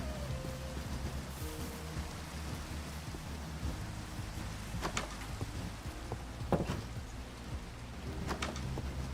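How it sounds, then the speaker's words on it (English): Steady hiss of rain falling in the Minecraft video game, a dense continuous patter with a few louder crackles and low rumbles underneath, no voices. "Love the rain though, it's pretty."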